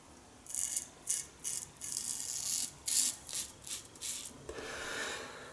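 Gillette Aristocrat non-adjustable double-edge safety razor on a first shaving pass, quiet scratchy rasping strokes through lather and stubble, short repeated swipes close to the mic.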